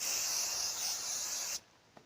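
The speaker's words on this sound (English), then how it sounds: "It's a professional setting spray." Professional makeup setting spray gives one continuous, close misting hiss for about a second and a half, then cuts off sharply, followed by a faint click.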